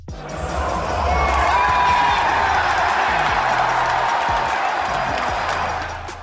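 A packed stadium crowd at the Fortnite World Cup roars in a sustained loud eruption of cheering and shouting that swells, holds steadily and then eases off toward the end.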